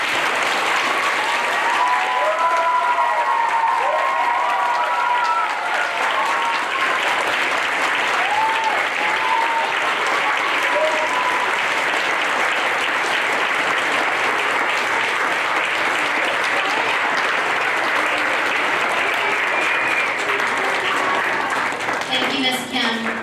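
An elementary school audience at an assembly applauds loudly and continuously for over twenty seconds, with a few cheers and voices mixed into the steady clapping.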